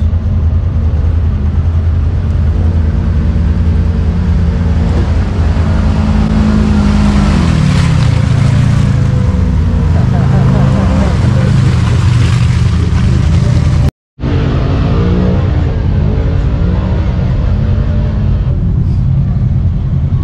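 Several Kawasaki KRX side-by-sides idle and rumble together at an off-road trail park in Kentucky, a loud, continuous low engine drone with some revving swells and a brief cut partway through.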